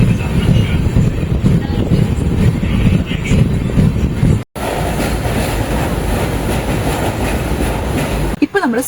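Automobile-carrying freight train running on the line toward Pune, a steady rumbling roll with faint rail clatter, briefly cut off partway through before the same loud rolling resumes.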